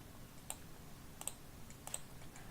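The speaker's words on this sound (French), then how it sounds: "en appuyant sur la touche Supr du clavier" Keys on a computer keyboard are pressed as a few faint, sharp clicks spaced irregularly over a quiet room background.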